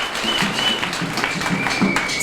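Congregation applauding in church, dense steady clapping from a crowd sustained throughout at moderate loudness.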